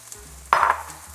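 Onions and green onions in a frying pan, a quiet background hiss followed by a sudden, loud burst of sizzling and a stirring scrape about halfway through, then settling back to a soft sizzle.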